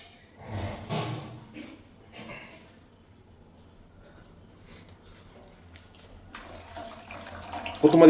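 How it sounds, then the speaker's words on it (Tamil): Water splashes and trickles into a cooking pot for Maggi noodles in a home kitchen, a few short pours heard close by, with insects chirping faintly behind and a louder splash near the end. "மிக்ஸ் பண்ணி இன்னும் கொஞ்சம் தண்ணி சேர்த்துக்கிறேன்."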